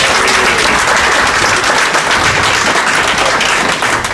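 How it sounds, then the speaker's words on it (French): A church congregation applauds together, dense and loud, a steady wash of clapping from many hands that lasts throughout with no talk over it. "Est-ce qu'on peut l'acclamer aussi?"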